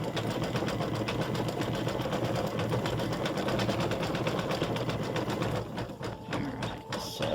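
An embroidery machine stitches a small bow design for an in-the-hoop mug rug, a steady, dense, rapid needle chatter running continuously close up, with a slight break in the rhythm near the end.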